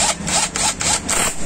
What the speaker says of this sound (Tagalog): Pag magigpit kayo ng flange bolt sa ibabaw.